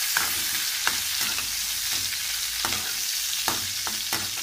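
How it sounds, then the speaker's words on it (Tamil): Green chillies sautéing in oil in a pan for a yam masiyal, a steady broadband sizzle broken by several sharp stirring scrapes, close and alone with no talk. "பச்சை மிளகாய், நல்லா வதக்கணும்"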